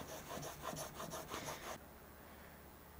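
A steel chisel is rubbed back and forth on a sharpening stone to grind a new primary bevel, giving rhythmic scraping strokes at close range before the strokes stop and a faint hiss remains.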